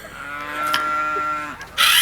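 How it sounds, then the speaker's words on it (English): A young sheep lets out a drawn-out, wavering bleat close by, followed by a brief rustling burst of noise at the end. "I've got my sheep now."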